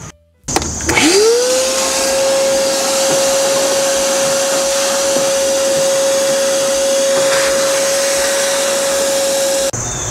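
A Traeger Ironwood XL pellet grill is being washed down, with a loud, steady, high motor whine that starts abruptly, runs evenly for several seconds, then cuts off.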